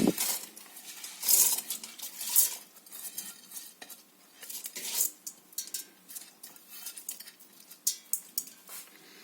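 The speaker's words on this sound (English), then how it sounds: "add a little bit of olive oil into the pan here. I'm going to add the rice" Rice tipped into a pan with a little olive oil for majadra, a vegan lentil dish, giving close, uneven grainy scraping and stirring clatter with light sizzle underneath, in bursts across the whole stretch.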